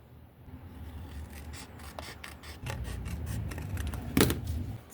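Scissors cutting out a paper card piece for a greeting card, close and quiet, with soft repeated snips and rasping paper rubs and one sharper snip near the end.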